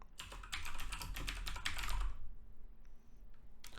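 Rapid keystrokes clatter on a computer keyboard in a quick burst, then stop, with a few faint clicks afterward; close and fairly quiet, without talking.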